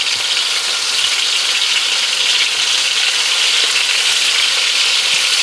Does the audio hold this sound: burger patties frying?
yes